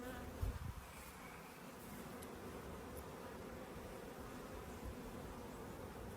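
Honeybees buzzing steadily and densely around an open beehive during a summer inspection, a constant close hum with occasional faint rustles and knocks.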